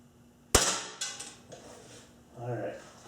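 A single sharp shot from a Ruger Mark 1 pellet pistol rings out close by, followed by a few quieter metallic clicks and handling noises.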